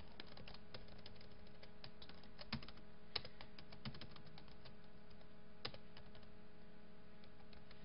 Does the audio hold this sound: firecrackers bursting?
no